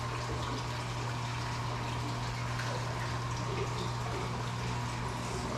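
Aquarium water gurgling and sloshing as a Montipora coral is lifted and handled, a steady continuous wash over a constant low pump hum, without speech.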